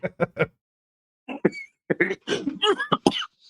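Three quick coughs in a row, then after a pause a longer fit of harsh, throaty coughing, close and clear.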